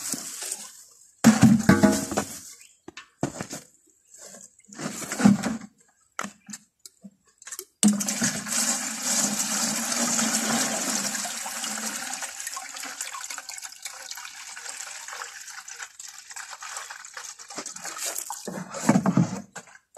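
Water gushes into a can in bursts and then as a long steady fill, loud and close, for mixing banana-fruit fertilizer for plantain seedlings.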